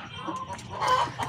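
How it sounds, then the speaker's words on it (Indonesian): Caged free-range village chickens cluck softly at close range, a few short, faint calls over a quiet coop. "ini contohnya ayam yang di kandang"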